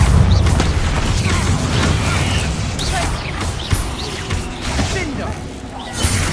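Bombarda blasting spell cast in the Hogwarts Legacy video game, heard as dull booming bursts and rumbling impacts over a dense, continuous game soundscape, with a voice speaking at points.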